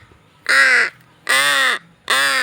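A crow caws three times, loud and close, each harsh call drawn out and evenly spaced, with no other sound between them.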